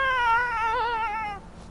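A human voice imitates a cat with a single drawn-out, wavering meow, close and clear, fading out after about a second and a half.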